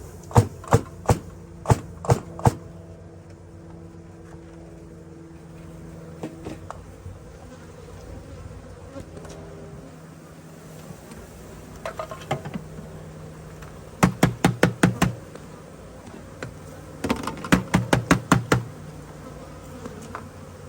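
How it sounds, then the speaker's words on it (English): A swarm of honeybees removed from under a floor drones inside a screen tray while the tray is knocked against the ground in bursts of sharp taps and thuds, the buzzing continuing between the knocks. "I'm gonna give it one good tap on the ground, kind of push all the bees at the bottom, pull the lid off, and then dump them in."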